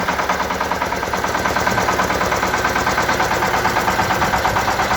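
A Shifeng SF350L mini tractor engine runs steadily at idle with a rapid, even chugging throb, close by and continuous.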